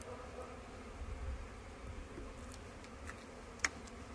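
Honey bees at a spring hive entrance, many returning with pollen on their legs, make a faint, steady low buzz, with one sharp click near the end.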